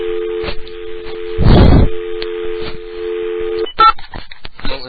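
A played prank call opens with telephone dialing tones: a steady tone broken by a loud burst, then a quick series of short dialing beeps, heard over a phone line on a radio program.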